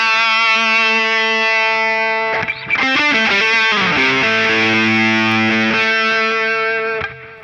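Electric guitar run through a Danelectro Cool Cat distortion pedal with the treble turned all the way up, giving a harsh, fizzy, boxy tone: a sustained chord, then a short burst of choppy strums, then another ringing chord that cuts off abruptly.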